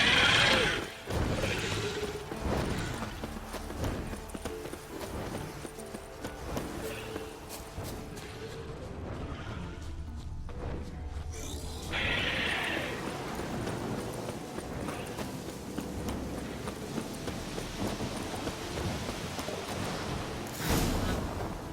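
A warhorse's hooves clop at a trot over rough ground in The Witcher 3 video game, a continuous near rhythm mixed with game ambience and mechanical clatter, without a clear whinny.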